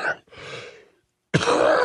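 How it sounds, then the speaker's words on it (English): A rough throat-clearing cough, then a pause of silence before another harsh, raspy cough bursts out close to the listener. "I'm going to cough again."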